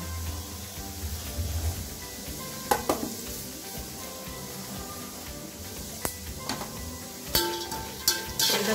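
Asafoetida, turmeric and salt sauté in a pan for spicy bhadang, a moderate sizzle with clinks of a utensil against the pan and occasional sharp scraping strokes.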